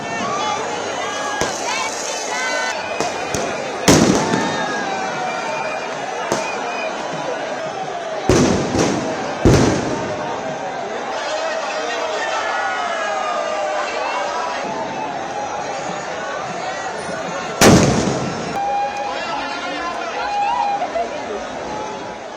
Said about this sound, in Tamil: தெருக்களில் பட்டாசுகள் வெடித்து